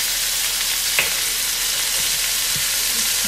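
Chicken pieces for Manchurian chicken fry in a pan, giving a steady loud hiss and sizzle throughout with a few faint clinks.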